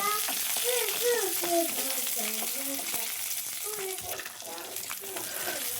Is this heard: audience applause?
no